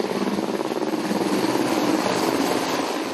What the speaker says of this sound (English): US choppers ferry in food and supplies.